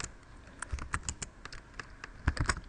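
Quick, uneven bursts of key presses on a computer keyboard while entering commands into a terminal, close and crisp with irregular pauses between clusters of clicks.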